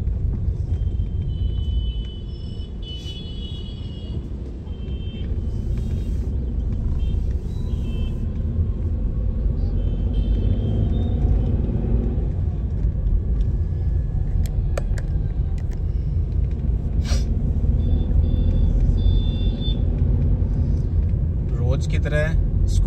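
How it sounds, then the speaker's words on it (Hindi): Morning school traffic rumbles steadily along a road: a constant low drone of passing cars with faint higher clicks and whines, while a person talks over it throughout. "रोज की तरह स्कूल का ट्रैफिक सड़क पे अभी भी है, देख सकते हैं आप"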